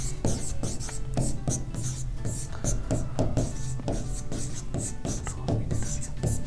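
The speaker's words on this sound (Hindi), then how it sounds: "पूरा लिख देता हूं मैं" Marker or chalk writing on a board during a physics lecture on moment of inertia, a steady run of short scratchy strokes in quick rhythm, close and fairly loud, with a man's speech over parts of it.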